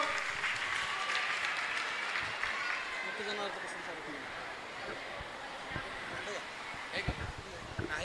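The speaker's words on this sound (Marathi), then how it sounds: "सर्वांनी टाळ्या वाजवावं." Audience applauding at an award ceremony for a Ganesh festival decoration and dhol-tasha competition, a steady spread of clapping from a crowd in a hall, moderately loud, with a voice heard over it.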